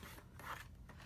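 A scoring tool drawn across Dapper Denim cardstock cut to 3 by 4 inches, giving one short, quiet rasping scrape.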